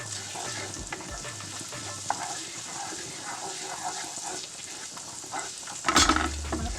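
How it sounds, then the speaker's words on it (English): Garlic sizzles steadily in butter in a pan, a continuous crackling fry with a sharper burst of sizzle near the end, no voices over it. "Fry for a bit. And make it fry down for a bit."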